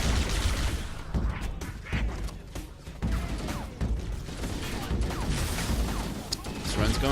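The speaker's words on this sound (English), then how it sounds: "Plasma rifle." Rapid plasma rifle fire in Halo: Combat Evolved, a dense stream of bursts and zaps continuing steadily under busy game noise with speech mixed in throughout.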